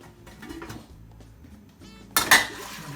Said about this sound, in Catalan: el que anem a fer és posar-les dintre de l'olla i iniciar la cocció